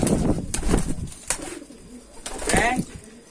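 Racing pigeons cooing up close, low throaty coos in short bursts with a few sharp wing flaps and rustles in between, fairly loud and uneven in rhythm.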